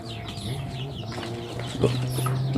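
Several chickens cluck and murmur close by in a steady, busy stream, with a slightly louder burst of clucking near the end.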